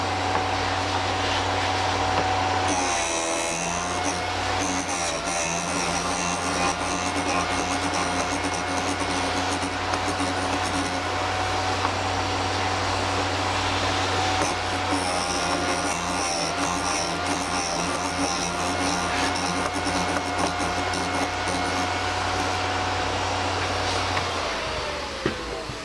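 Vevor drill bit sharpener grinding a drill bit, a steady loud motorized whine and hum lasting throughout with a continuous abrasive hiss, pitch shifting slightly as the bit is worked, no talking.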